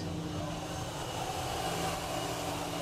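Airliner engine running at Zurich Airport as the aircraft prepares to taxi, a steady loud roar with a constant hum and faint whine throughout, no talk.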